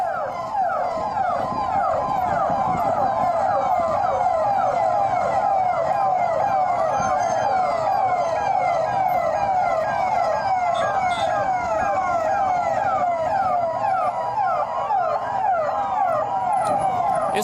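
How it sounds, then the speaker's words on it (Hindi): Several police sirens wail continuously and overlap, their rising and falling tones blending with traffic noise nearby. "बाइक्स के सायरन बज रहे थे।"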